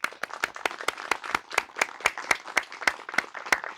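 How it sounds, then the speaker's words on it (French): Applause from a church congregation at a Catholic Mass, heard as a sparse, near-rhythmic series of sharp distinct claps, a few people clapping in a steady beat. "on va l'applaudir."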